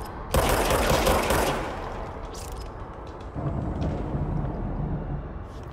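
Gunfire in the action video game Control: a loud, dense burst of rapid shots at the start, then rumbling aftermath and a second, softer stretch of sustained firing and noise.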